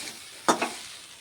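Water spinach greens tipped into a hot pan on a gas stove give a brief sizzling burst and a second smaller crackle, then settle to a quiet fry.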